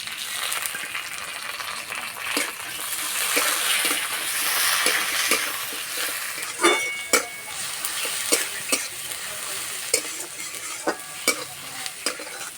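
Onion and tomato frying in mustard oil with five-spice seeds in a kadai, a steady close sizzle broken by repeated sharp clicks and scrapes of a spoon stirring against the pan.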